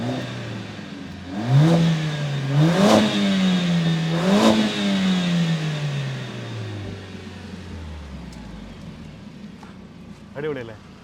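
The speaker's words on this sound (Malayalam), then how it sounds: "പക്ഷേ അതിന് മുമ്പ് എനിക്ക് ഇതിൻ്റെ എക്സോസ്റ്റ് നോട്ടൊന്ന് കേൾക്കണ്ടേ?" A Mercedes-AMG A45 S exhaust revs sharply several times in a row, each blip rising and falling, then settles into a lower idle that fades. A short extra blip follows near the end, and a voice is heard.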